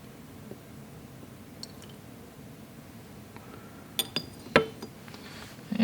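Liquid swirled in laboratory glassware during a hydrochloric acid rinse of copper: a quiet, soft swish followed by a few bright glass clinks close by near the end.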